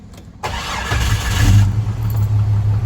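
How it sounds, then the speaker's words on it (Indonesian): Jeep Cherokee XJ Limited engine starting: a brief starter crank, then the engine catches with a burst and settles into a steady, deep idle, recorded up close. "kita nyalakan dulu mesinnya"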